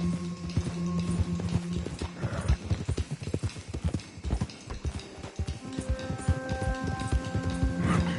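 Rapid, rhythmic hoofbeats of a horse clip-clop close by as it is urged on, with a brief whinny-like tone and a voice urging the animal along.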